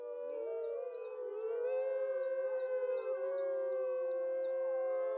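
Several wolves from a captive pack give a long, sustained defensive howl, overlapping tones rising and wavering together as a loud continuous chorus, with faint higher yips on top and no talking.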